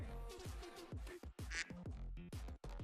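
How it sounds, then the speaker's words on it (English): Duck quack sound effect: a rapid series of loud, nasal quacks in quick succession, close and clear, with no talking. "Duck quack."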